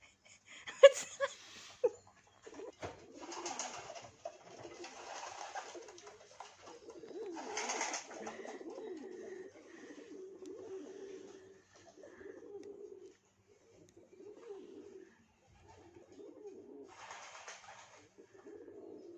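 Pigeons cooing nearby in short soft bursts, with a few brief higher calls mixed in and quiet pauses between the phrases.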